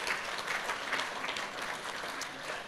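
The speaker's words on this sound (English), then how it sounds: "Let's give them a round of applause." Audience applause at a business awards ceremony, a steady wash of clapping from a seated crowd, moderately loud and continuous.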